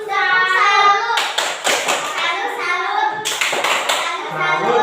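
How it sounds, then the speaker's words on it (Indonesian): Schoolchildren in a classroom clap for group 1 after a presentation, bursts of close, loud hand claps rising and falling in waves, with children's voices mixed in. "Silakan beri tepuk tangan untuk kelompok 1."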